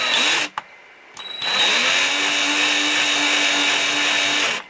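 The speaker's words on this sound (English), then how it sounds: "Just going to drill the top of the rivet head." A power drill bores into the top of a rivet head on a restored Matchbox Lesney tanker toy, a loud high whine in two bursts, a short one and then a long steady run after a brief pause.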